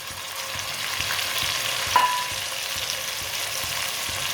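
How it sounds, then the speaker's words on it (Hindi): Chopped tomatoes and green chillies frying in a pan, a steady close sizzle with a brief stir clink partway through, no talk. "टमाटर और सब्ज मिर्च को भी 2-3 मिनट के लिए पका लेंगे।"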